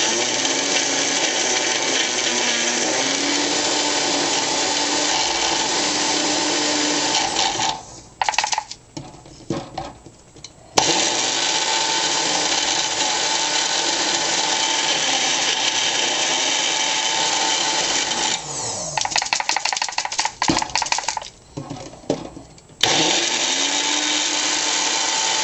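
Blender grinding almonds into almond butter: a loud, steady motor roar that runs alone, drops out briefly twice into rattling pauses, then resumes at full strength.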